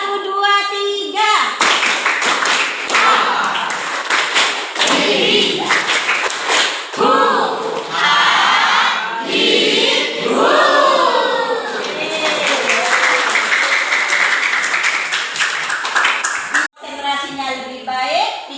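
A group claps in a rhythmic one-two-three pattern, sharp repeated hand claps mixed with voices talking and chanting over them, loud and close throughout.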